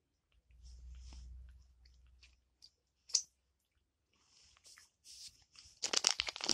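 Close, quiet chewing of a chewy Japanese candy, with soft sticky crunches and clicks in scattered bursts, a low rumble early on and louder smacking toward the end.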